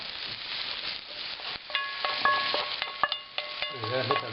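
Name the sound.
caponata vegetables sizzling and stirred in pan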